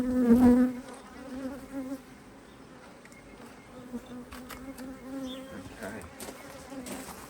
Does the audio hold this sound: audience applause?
no